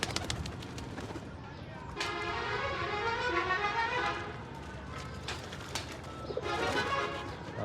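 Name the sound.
pigeons cooing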